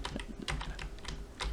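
Computer keyboard keys tapped repeatedly while working in an Excel spreadsheet, a quick series of light, close clicks and taps with no talking.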